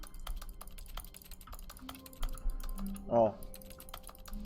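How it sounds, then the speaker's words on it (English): Rapid, faint keyboard typing in The Stanley Parable, crisp key clicks tapping in an irregular stream throughout, with a short spoken exclamation near the end. "Why does it sound like I'm pressing a keyboard?"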